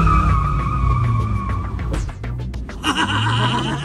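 A VW Golf 1 cabriolet with a freshly rebuilt engine revs hard while tires squeal and screech in a sustained burnout, close and loud, with brief lulls between bursts.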